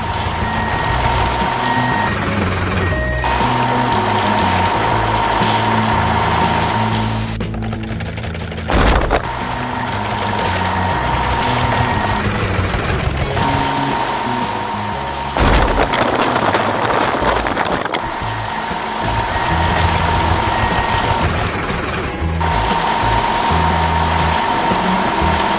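A dump truck and compactor working on a landfill construction site give off repeated electronic reversing beeps over a rumbling, idling diesel engine. The beeping runs in long stretches, broken by brief pauses and a couple of louder clunks, with no talking.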